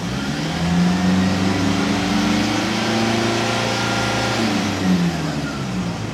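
A Toyota Kijang Innova diesel engine revs close by, its tone rising and falling through several throttle blips over a steady diesel clatter, loud and continuous with no talk.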